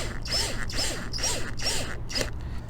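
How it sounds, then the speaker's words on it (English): Screws driven into an RV ceiling vent, with a power drill whirring in five quick, evenly spaced bursts, each pitch rising and falling, close by and with no talk. "we're going to take the screws that they gave us, the new ones, and we're going to set this in with those"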